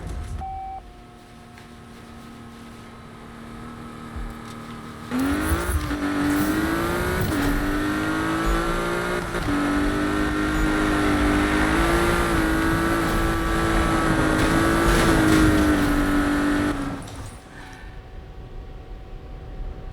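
A racing car engine in Need for Speed 2015 roars loudly and steadily for about twelve seconds, its pitch rising and shifting as the car accelerates and slides, with quieter driving before and after.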